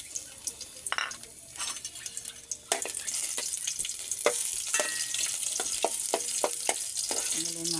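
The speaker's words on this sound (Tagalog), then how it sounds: "Ayan, magigisa tayo ng bawang." Garlic sautéing in a pan, a quiet crackle at first that turns into a steady, bright sizzle partway through, with scattered clicks and scrapes of stirring throughout.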